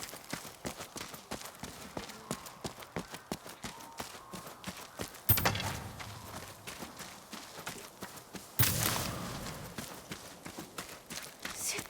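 Horse hooves clip-clop steadily in the video game Ghost of Yotei, a close, rhythmic run of even hoofbeats with a couple of brief louder bursts partway through.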